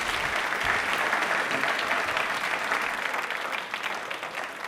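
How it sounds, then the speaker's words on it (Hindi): Steady audience applause at a Rajasthan Independence Day quiz show prize moment, dense continuous clapping from a crowd that holds strong for several seconds before tapering slightly at the end. "तालियां एक बार जोड़ा बजा दीजिए"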